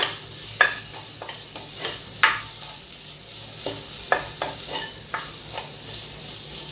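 Chopped tomato is stirred into a frying masala in a pan: a soft sizzle under sharp, irregular scraping and clacking stir strokes, close by, with no speech.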